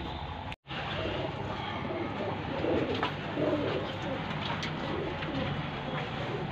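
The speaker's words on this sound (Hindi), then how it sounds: "ये सब कबूतर बैठे हैं इंतजार में।" Pigeons cooing in a loft, a steady low murmur of soft calls under constant background noise, with one brief dropout near the start.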